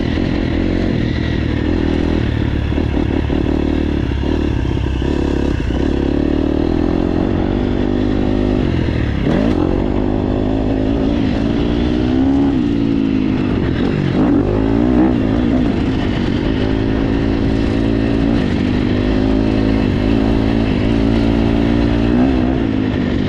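A KTM 250SX-F four-stroke dirt bike engine running loud and close through a ride, revving up and down through the gears with rising and falling whine and occasional rattly clatter.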